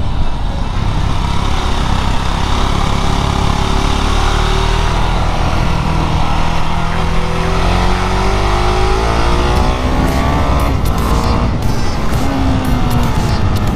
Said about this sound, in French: il monte haut dans les tours ce mono